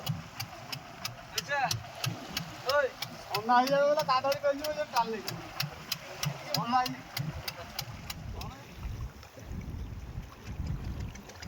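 A fishing boat engine runs with a steady rhythmic chug near Jambu Island, under people talking, wind and water noise around it.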